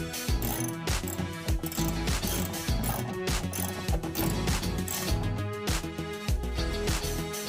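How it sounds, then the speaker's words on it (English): A ratchet loosening two bolts on a Hyundai Elantra trunk, a steady run of rapid mechanical clicks repeating at an even rhythm, close and fairly loud with no talking. "I unscrewed two bolts."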